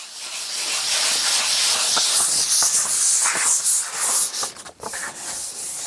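Sandpaper rubbing over rough, unfinished painting canvas during prep, a steady raspy, hissing friction that runs continuously up close with small rhythmic variations, briefly dipping near the end.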